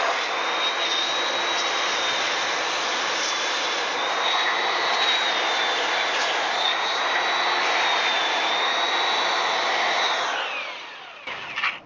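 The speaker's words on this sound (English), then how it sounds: "Plan is take belt sander and find the pieces that are sticking up" Belt sander running steadily across pavers to grind down mortar high spots, a loud continuous high whine with a constant tone for about ten seconds, then spinning down and stopping near the end.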